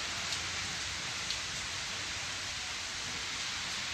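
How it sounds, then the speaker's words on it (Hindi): Heavy rain pours down steadily outside a house, a dense, even hiss of falling water that holds constant for several seconds with no voices over it. "बहुत आ रही है बारिश, देखो कैसी आ रही है बारिश"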